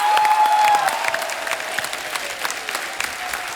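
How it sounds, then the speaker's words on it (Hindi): Studio audience applause on a Hindi comedy talk show set, a dense wash of many hands clapping that starts loud and gradually tapers off, with no talking over it. "जोरदार तालियां होनी चाहिए यार।"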